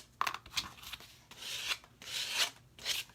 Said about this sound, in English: just take your fingernail file, your emery board, and it will just file it right off.